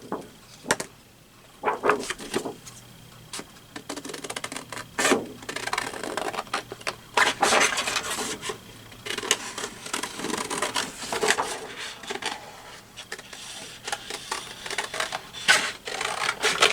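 Scissors snip through a paper label cut from a bunny-themed Easter scrapbook page, giving a close series of crisp, irregular cuts and rustles with short pauses between strokes, no voices.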